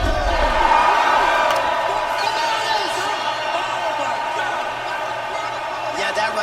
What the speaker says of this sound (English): Crowd absolutely loving it.